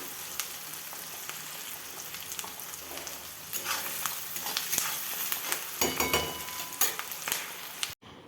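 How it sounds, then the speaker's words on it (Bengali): Onions frying in oil in a wok for chicken curry: a steady, close sizzle and crackle fills the clip, with a few stirring scrapes and clinks and louder bursts toward the end before a sudden cutoff. "পেঁয়াজগুলো ভাজা হতে থাক।"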